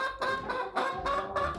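Pet backyard chickens, being given seed treats, make a busy stream of overlapping clucks and soft squawks close by, with several birds calling at once and no talk.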